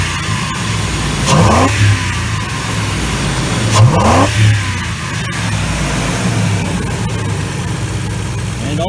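Ford Expedition engine fitted with a modified, less restrictive air intake, revving twice from idle with a deep intake roar over a steady rumble, close and loud.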